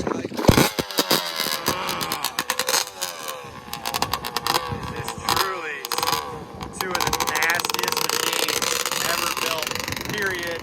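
A 250R sport trike engine on sand dunes fires up and revs in sharp, rattling bursts, then settles into a steady loud drone, with people talking nearby over the engine noise.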